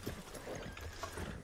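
Horse hoofbeats clip-clop in a steady, fairly quick rhythm in RedM, a Red Dead Redemption 2 roleplay game, over a constant low background hum, close and moderately loud.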